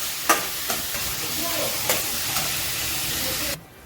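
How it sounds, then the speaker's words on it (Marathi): An onion masala cooks in a pan with a spoonful of salt, giving a steady frying sizzle. A few scraping spatula strokes sound during stirring, then the sound cuts off abruptly. No one speaks. "मीठ टाकल्यानंतर आपल्याला हलवून घ्यायचं."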